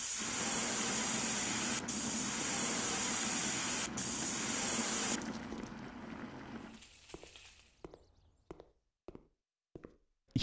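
Bug spray hissing at cockroaches in the video game Cafe Owner Simulator: a loud, steady aerosol spray lasting several seconds, then tapering off into quiet with a few short, sharp clicks or knocks near the end.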